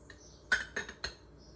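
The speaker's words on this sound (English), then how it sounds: "We're going to be using the same spoon, since that is going to be the last of the ground beef to scoop onto the tostadas." A metal spoon scoops the last of the cooked ground beef onto tostadas, giving three sharp, close clinks and scrapes in quick succession against a quiet background.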